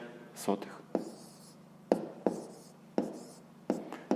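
A pen writing numbers in a notebook during a fifth-grade maths exercise on decimal fractions: sharp taps and short scratchy strokes in an irregular rhythm, close and quiet, with soft speech beneath.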